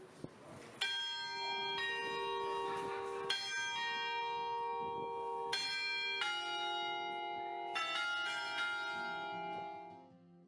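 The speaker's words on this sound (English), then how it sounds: "They do have bells that ring every 15 minutes, and just be aware they are very loud when they go off" Hallgrimskirkja's church bells ring out loud and close at the top of the tower in repeated overlapping strikes, each toll leaving long bright ringing that layers over the last before fading at the end.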